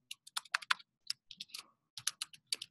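Quick bursts of clicking keystrokes on a computer keyboard, close and fairly quiet, typed in short irregular runs with brief pauses between.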